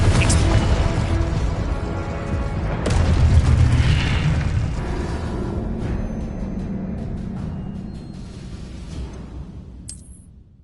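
A Confringo explosive spell bursts with a heavy booming blast in Hogwarts Legacy, followed by a sustained rumbling roar of debris and fire that slowly fades over several seconds.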